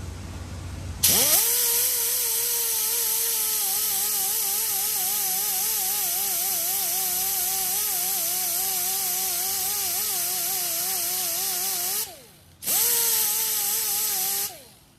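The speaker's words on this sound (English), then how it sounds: "it is pretty deep, so I'm gonna hit that with a grinder" Power grinder working on a deeply damaged car wheel rim during a mobile rim repair, spinning up to a loud steady whine with a wavering pitch, cutting out briefly near the end, then restarting for a short final burst.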